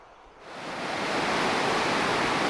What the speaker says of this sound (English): I think you can tell by the sound of that river why I didn't want to cross it.